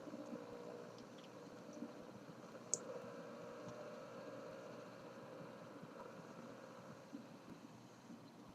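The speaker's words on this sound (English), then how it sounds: "Static." Faint, steady radio static hisses evenly throughout, with a single small click partway through and no voices.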